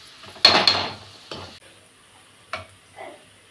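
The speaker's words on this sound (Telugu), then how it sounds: "వేసిన మసాలా పొడి వేసుకొని కలిపి దించేసుకోవడమే." A spoon scrapes and stirs masala powder into beetroot fry in a pan, with a few distinct scraping strokes separated by quiet pauses.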